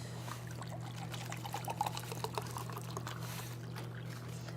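A cup of water is poured into a cooking mix for a Thanksgiving dish, a soft trickling pour over a steady low hum, faint and continuous with slight splashy bursts midway.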